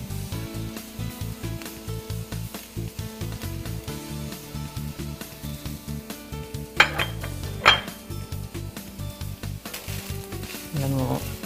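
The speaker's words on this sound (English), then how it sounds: "And then we'll cook that down a little bit so the onions are nice and soft." Onions and spices frying in a pan with browned ground meat for taco stuffed tomatoes: a steady, close sizzle, with two sharper clinks of a utensil against the pan partway through.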